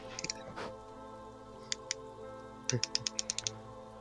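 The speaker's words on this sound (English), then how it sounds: "That clicking sound sounds like somebody turning the barrel of a revolver" Quiet, crisp mechanical clicks, first a few scattered ones and then a quick rhythmic run of about eight, like a revolver cylinder being turned, close and faint over a low steady hum.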